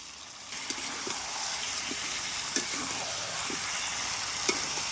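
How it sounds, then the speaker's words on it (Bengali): Onion paste, chopped tomato and garlic sizzle steadily in a pan for mutton curry, a loud close frying hiss broken by a few soft stirring scrapes. "নেড়ে চেড়ে মিশিয়ে আন্দাজ মতো লবণ দিয়ে দিচ্ছি তখন ভালো করে কষিয়ে নেব"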